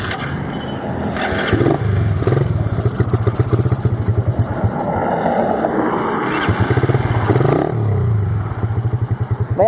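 A stock Raider 150 F.I. motorcycle engine runs close by with a buzzing, pulsing note, rising through a couple of revs with rattling clatter over nearly ten seconds.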